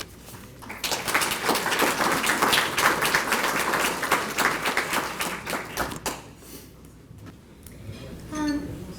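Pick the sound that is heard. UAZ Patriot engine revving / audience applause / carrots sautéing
audience applause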